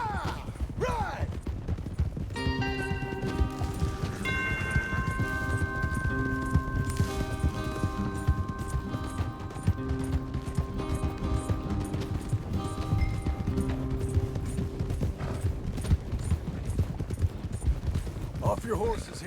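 Horses gallop in Red Dead Redemption 2 with steady pounding hoofbeats, overlaid by a sustained musical score and occasional game voices throughout.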